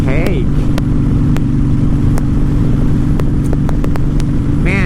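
A Honda Fury cruiser motorcycle's engine rumbles deep and steady as the throttle rolls on, a continuous low drone filling the clip with a few sharp clicks and a faint whine rising near the end.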